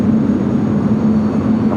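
Airplane at Los Angeles LAX airport, a steady droning engine rumble with a sustained low hum, moderately loud and constant with no voices over it.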